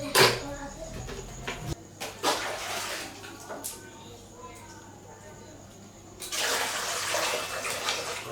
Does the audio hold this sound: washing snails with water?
yes